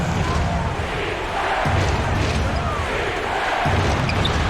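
An NBA 2K20 basketball game with a layup finished off the glass, where a couple of dull ball thumps sit under a steady, loud arena crowd roar.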